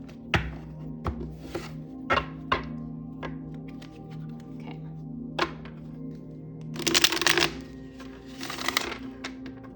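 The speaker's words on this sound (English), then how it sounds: "Let me show you how they shuffle." Tarot cards being shuffled by hand, a series of sharp riffling snaps and soft taps spaced irregularly, followed by two longer bursts of fluttering card noise, close and fairly quiet with no speech.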